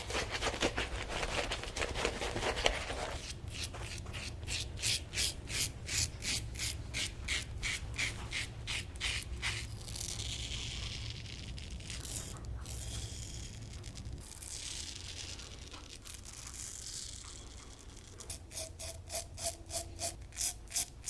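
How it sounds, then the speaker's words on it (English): A razor dragging against the grain of stubble, a series of close, crisp rasping strokes in quick rhythmic bursts with short pauses between passes. "you want to shave with, across, and against the stubble growth"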